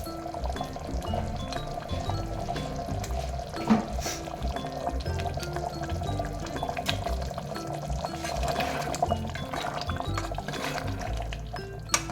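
Hot water poured in a little stream into thick jackfruit seed gravy on a stove, a steady soft liquid trickle with faint clinks of utensils throughout.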